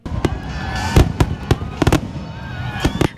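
Fourth of July fireworks crack and boom in sharp, irregular bursts, loud and close, some in quick doubles, with faint whistling between.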